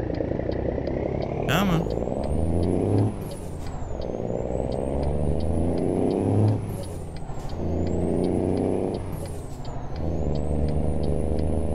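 Modded heavy truck engine in American Truck Simulator hauling a scraper in New Mexico, a steady loud diesel drone with rising and falling revs, a sharp air-brake hiss and repeated reversing beeps, with a brief spoken remark.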